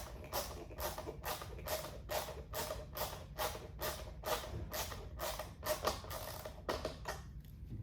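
A ratchet socket wrench tightens a bolt on a 2022+ BMW K1600 motorcycle, giving a fast, regular series of close clicking strokes, about two per second, with no talk.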